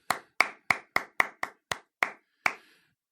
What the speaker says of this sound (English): I love it when I'm the only one clapping.